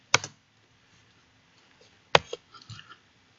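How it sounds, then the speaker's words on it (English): Keys tapped on a computer keyboard while entering a number: two sharp clusters of clicks, one at the start and another about two seconds later, each followed by a few lighter taps, close and alone with no talk. "Let's type in 24."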